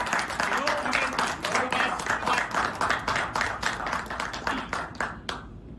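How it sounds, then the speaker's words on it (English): An audience bursts into a lively round of applause, dense rapid clapping that runs for several seconds before cutting off sharply, with a voice speaking over it. "We can remove your nervousness with a great round of applause."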